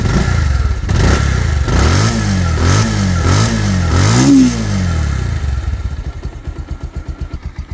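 Second-hand 2024 Bajaj Pulsar 150 cc motorcycle at a bike dealership, revved close up: a run of five or six sharp throttle blips rising and falling, then settling into a lumpy, pulsing idle.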